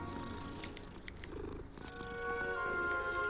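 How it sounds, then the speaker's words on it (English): A cat purrs in the Hogwarts Legacy video game, a soft low rumbling purr with faint tonal game sounds layered above, steady and close, no speech. "Look, another cat."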